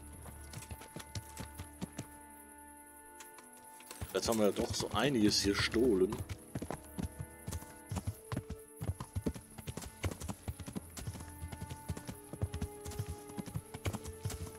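Horse hooves clip-clop in a steady rhythm in the video game Kingdom Come: Deliverance beneath someone speaking, with a louder burst of galloping movement partway through.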